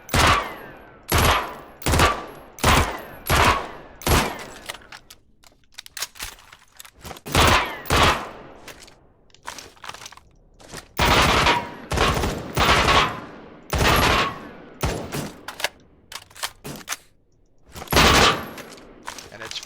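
M16A1 rifle in Badlanders firing on full auto at a slow rate, loud sharp shots in short bursts with gaps between them, close and punchy throughout.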